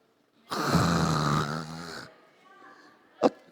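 A voice imitates loud snoring in a long, rasping, close-up snore, followed by a quieter exhale and a short sharp sound.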